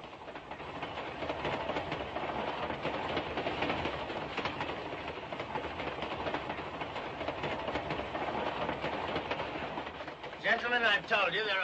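Rhythmic clatter and rumble inside a moving train carriage, steady and fairly loud throughout, with voices talking over the rail noise.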